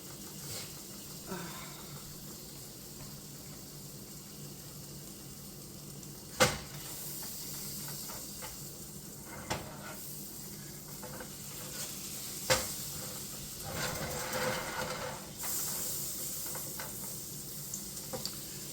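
Butter melts in a pan as the base of a shrimp Rasta pasta sauce, giving a soft, steady sizzle with a few sharp clicks of a utensil against the pan.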